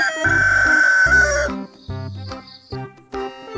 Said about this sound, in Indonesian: ini ayam jantan.